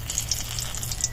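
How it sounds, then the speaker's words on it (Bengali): Bay leaf dropped into hot oil in a kadai, giving a steady, close sizzle of light crackling pops for about a second with no voices. "তেল গরম হয়ে গেছে, তেজপাতা দিয়ে দিচ্ছি"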